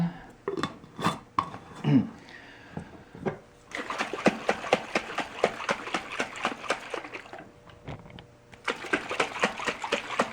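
Gelatinous seeds rattle and slosh inside a lidded container as it is shaken in a steady, rapid rhythm, with a short pause before the shaking starts up again; a few loose knocks and handling sounds come first.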